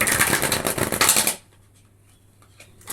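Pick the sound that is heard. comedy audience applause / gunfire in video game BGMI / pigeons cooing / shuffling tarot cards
shuffling tarot cards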